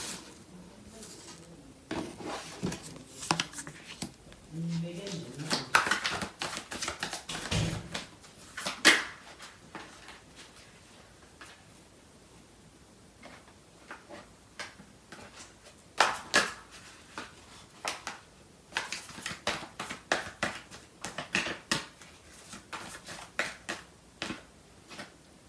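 Tarot cards are handled and shuffled in a quiet room: soft, faint shuffling and flicking with scattered light taps and snaps at close range.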